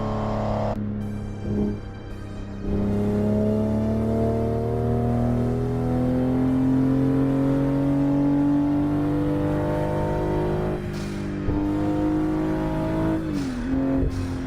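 Car engine in a driving simulator video game, revving loud and clear in long rising pitch sweeps through the gears, with short throttle lifts and a few gear changes between sustained pulls.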